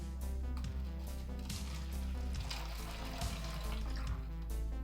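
A LEGO Mindstorms boba machine pours jasmine milk tea in a steady, close liquid stream for several seconds, with a faint low hum underneath.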